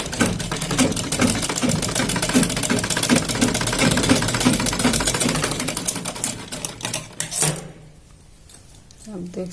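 A sewing machine stitches the shoulder seam of a baby top in a steady, rapid mechanical patter at close range. It slows and falls quiet near the end, with a few light clicks.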